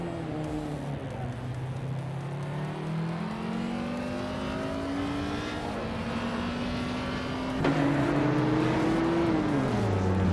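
Race cars in a racing video game, ultralight and TCE classes, drone steadily with rising and falling engine pitch, one car's tone climbing as it accelerates and another surging in near the end, continuous and moderately loud.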